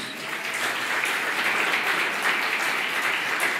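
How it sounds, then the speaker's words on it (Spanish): Steady, dense applause from a crowd fills the whole stretch, sustained and even without any clear break. "¿qué tal si levantamos otro aplauso al nombre de Jesús?"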